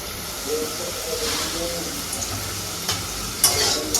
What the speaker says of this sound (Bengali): এখন জিরা, 2টা শুকনো লঙ্কা, তেজপাতা দিয়ে দেবো। তেল দিয়ে দিচ্ছি।